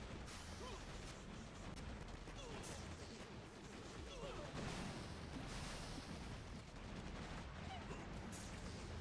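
Doom Cannon fire in a Clash of Clans style video game, a dense, continuous barrage of booming blasts and crashing impacts that runs throughout, with game sounds layered over it.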